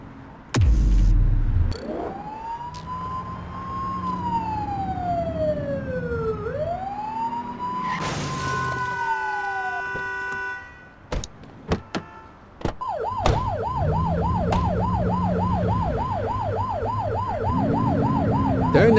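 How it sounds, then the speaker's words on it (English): A police siren from the video game The Precinct wails and sweeps loud and close, cuts out briefly after a few clicks, then comes back as a rapid yelp cycling steadily to the end. "Turn that siren off. We don't need it on right now."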